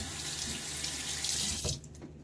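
Water from a sink tap pours in a steady, close, hissing stream during a shave, then cuts off near the end, leaving only quiet drips and room noise.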